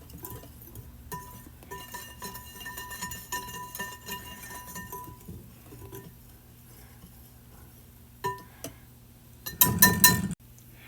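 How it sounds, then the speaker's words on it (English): Dry ingredients with pumpkin pie spice are whisked in a bowl, producing light irregular clinks and taps of a whisk against the bowl, building to a brief louder burst of rapid clattering near the end. "now we're just going to whisk them all together"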